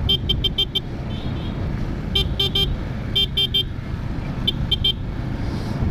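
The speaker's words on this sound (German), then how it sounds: "Also Hupe funktioniert auch, haben wir jetzt auch gleich getestet." Horn of a 2019 Kawasaki Ninja 650 motorcycle being tested, sounding in several clusters of short rapid toots over a low engine and road rumble.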